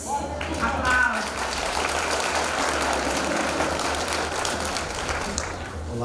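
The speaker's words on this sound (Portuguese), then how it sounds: "Aplausos." An audience applauds a speaker at an anti-drug lecture event in Aroeiras, with steady, dense clapping filling the room for several seconds and a voice briefly heard near the start.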